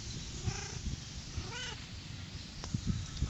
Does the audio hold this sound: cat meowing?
yes